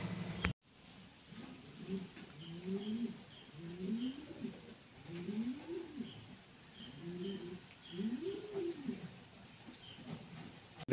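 Pigeons cooing in a loft at dusk, a series of soft, rolling low coos repeating in rhythmic bursts, close but quiet, with faint background chirps.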